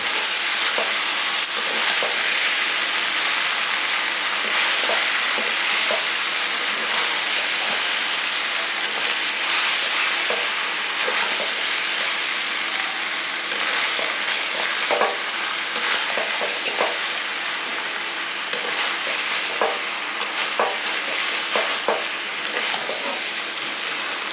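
Rewaji goat mutton sautéed in a pan while being stirred: a loud, steady sizzle runs throughout, with frequent scraping strokes from the spoon and no voices.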